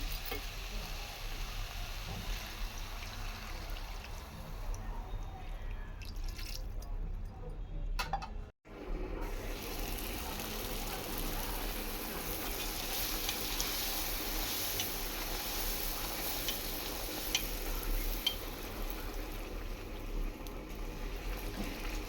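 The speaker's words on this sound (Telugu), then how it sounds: "కారం మారకుండా వెంటనే వాటర్ వేసుకుంటాం." Water hits a sizzling tomato and chili powder curry for puri and potato curry, producing a continuous dense hiss and bubbling that runs throughout with a brief dropout near the middle.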